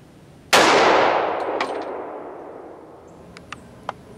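A single sharp gunshot from a Glock 32 firing a .357 SIG Hornady XTP 147 gr round into ballistic test media through denim, cracking loud and decaying into a long ringing tail, followed by two faint clicks.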